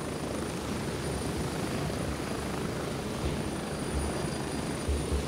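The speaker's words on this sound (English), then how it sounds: "I hear the heli. Coming towards you guys." A helicopter in the military shooter Gray Zone Warfare gives a continuous, fairly loud rumbling rotor drone as it approaches during online play.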